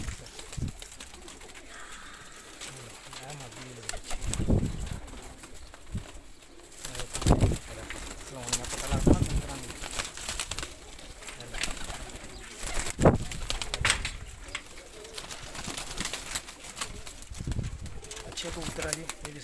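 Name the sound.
pigeons cooing in a breeder setup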